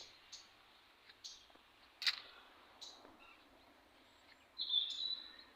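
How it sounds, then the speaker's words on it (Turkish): Faint bird chirps and calls sound sporadically outdoors near a village, with a few sharp clicks and a brief trill near the end, quiet overall. "Kuş sesleri var ama ne kadar yansıyor çekimlere bilemiyorum."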